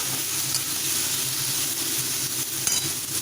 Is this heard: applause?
no